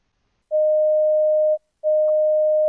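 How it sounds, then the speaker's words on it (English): Two long, steady electronic beep tones separated by a short gap, clean and loud with nothing else around them. "A large beep sound means that it is too far away from the direction"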